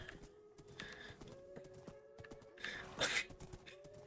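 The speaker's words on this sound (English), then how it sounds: "I want to get a name tag and name my horse Hans." Soft Minecraft sound effects: a horse whinnies amid muted clip-clop hoofbeats, with faint synthetic tones underneath, fairly quiet overall.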